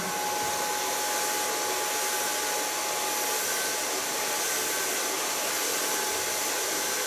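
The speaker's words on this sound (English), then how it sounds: "Start blow drying in the neckline." Hair dryer blows steadily and loudly on hair being styled with a medium-large round brush at the neckline, a constant airy roar with no talking.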